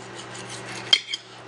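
A metal fork slides open a hot baked potato with a soft scraping, then two sharp little clinks of metal on a plate over quiet room hiss.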